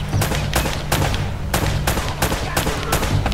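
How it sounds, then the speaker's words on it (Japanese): Heavy, evenly spaced gunshots boom out one after another in a fierce firefight in Uncharted on PS4, loud and close, about nine blasts in a steady rhythm. "ほんと敵との壮絶な撃ち合いだよ。"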